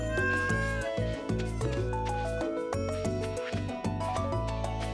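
Cat meowing in the video game Stardew Valley, heard over loud, continuous game music with a steady melodic backdrop throughout.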